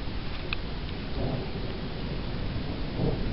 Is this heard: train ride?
no